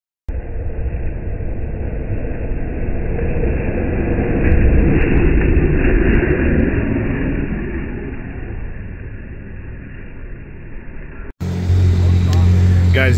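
A 240-horsepower Can-Am Maverick R off-road vehicle roars past at high speed, a loud engine rumble swelling and fading over about eleven seconds before a voice cuts in.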